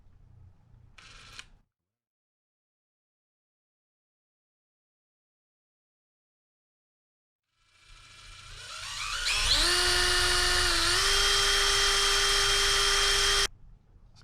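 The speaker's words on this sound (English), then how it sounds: "you should be able to drill through this pretty easily" Power drill boring through a soft aluminum fishing reel body to remove a broken screw; a brief rattle, long silence, then the motor spins up loud and steady for several seconds before cutting off.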